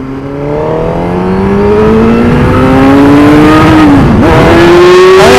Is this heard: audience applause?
no